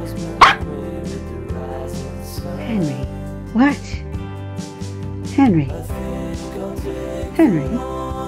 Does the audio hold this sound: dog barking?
yes